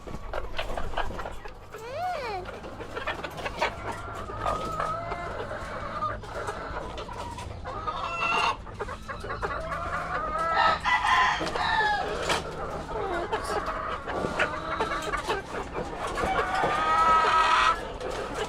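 Pet chickens cluck and squawk around a backyard coop while a rooster crows, with a dog also sounding amid a busy, fairly close mix of bird calls.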